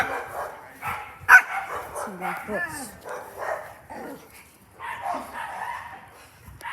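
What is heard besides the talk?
dog barking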